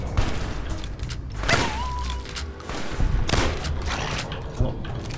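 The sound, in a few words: shotgun fire in video game Fallout New Vegas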